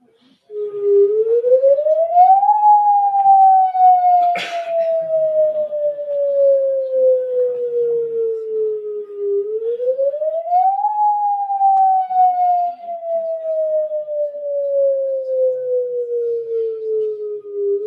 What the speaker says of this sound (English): Evacuation siren tone.